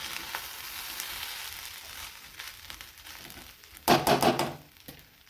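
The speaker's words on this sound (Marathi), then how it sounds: "याला आणखीन एकदा मिक्स करूया आणि छान असं वाफलेलं सुद्धा आहे." Steamed egg rice gets stirred in a pan, with soft scraping and faint sizzling throughout, then a short burst of louder spoon-on-pan clatter near the end.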